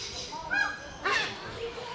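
Harsh squawks from a bird at a Pigeon Forge, Tennessee animal attraction, two loud calls close by, with people talking in the background.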